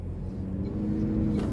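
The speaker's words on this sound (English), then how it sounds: "let's go ahead and take this 2025 Toyota Prius Plug-In out on the road for a test drive" A 2025 Toyota Prius Plug-in XSE Premium pulls away on the road, its low steady drive hum and faint road noise heard from inside the cabin, rising slightly toward the end.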